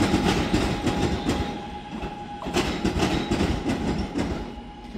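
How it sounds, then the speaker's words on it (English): A train rolls through a station with steady clickety-clack of wheels over rail joints and a constant mechanical rumble, loud and close throughout. "Welcome to the Halal train station."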